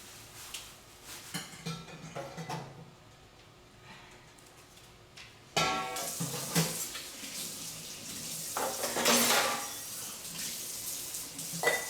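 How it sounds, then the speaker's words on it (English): Green bananas are tipped into a pasta strainer with water running and splashing, a quieter trickle with a few clinks giving way to a louder rushing pour midway, close by and without talk. "I am going to strain out"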